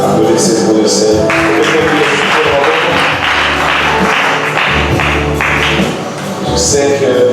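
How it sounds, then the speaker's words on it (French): A church congregation applauding, loud and sustained, with steady dense clapping over music and some voices, continuing throughout. "Applaudissez pour le Seigneur."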